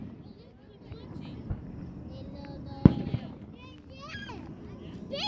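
Backyard fireworks go off amid chatter, with a sharp loud bang near the middle and scattered smaller pops and crackles around it, while people talk throughout.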